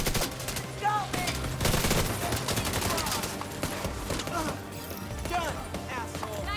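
Rapid gunfire from The Division 2, dense bursts of automatic shots and a fusillade filling the clip, mixed with game effects and voices talking over the action.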